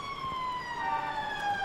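Police car sirens wail steadily in a 1974 Spider-Man audio drama, a continuous sliding electronic tone at moderate distance with no talk over it.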